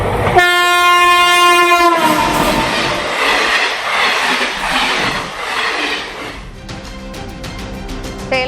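A train on a trial run along a railway line at 105 km/h, with a long loud horn blast at the start, then a rushing roar of passing carriages and a rhythmic clatter of wheels on the rails, close and loud.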